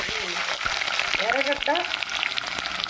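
Ginger, onion and curry leaves added to a tempering of urad dal and mustard seeds, frying with a continuous crackling sizzle, close and steady, while a voice speaks briefly over it.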